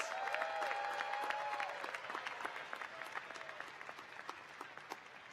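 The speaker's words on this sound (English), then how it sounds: "let's give our faculty and staff another really big round of applause for all they do for your success" Stadium audience at a university spring commencement applauds faculty and staff, a steady wash of clapping that holds across the whole stretch and eases slightly toward the end, with a few faint voices mixed in.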